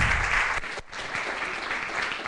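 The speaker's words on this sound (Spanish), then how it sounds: "le vamos a agradecer con un aplauso la presencia de Darío" Audience applause at a talk on gambling addiction, dense steady clapping that briefly dips and then carries on.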